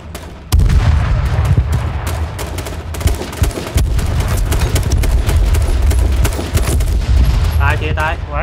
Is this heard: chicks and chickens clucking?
no